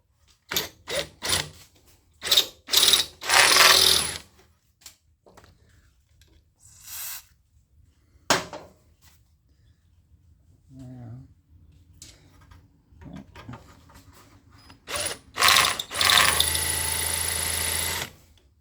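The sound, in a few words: drilling into a brass pin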